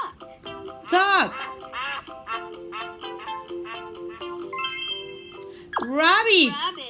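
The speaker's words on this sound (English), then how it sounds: "Duck. Duck." Duck quacks from a preschool English farm-animals lesson: a few nasal, rasping calls, one near the start and another near the end, clear and fairly close, with other sounds between them.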